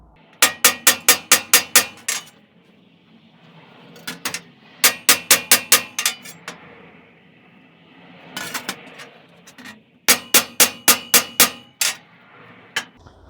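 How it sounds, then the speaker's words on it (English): Hammer blows ring out on a steel welding table as a damaged Highland Park Agate Eater lapidary saw blade is pounded: four bursts of rapid, evenly spaced metallic strikes, loud and close, with fainter clanks between the bursts and no talk. "Maybe I'll pound it some more."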